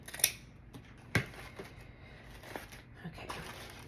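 A few faint, sharp snips from scissors cutting thin material for a Frankenstein craft wreath, isolated cuts spaced irregularly over a quiet room background.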